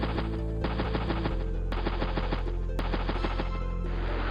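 Machine gun fire from the video game Advance Wars: Days of Ruin plays as rapid, evenly spaced bursts of shots over a steady low game tone, with a few sharp louder cracks. No talking.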